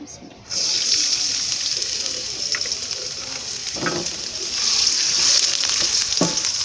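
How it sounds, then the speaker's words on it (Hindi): Chopped onion frying in ghee over the heat until lightly browned, a steady close hiss of sizzling oil running throughout with a few soft stirring scrapes and knocks of a spoon. "प्याज को हमने हल्का सा ब्राउन करना है।"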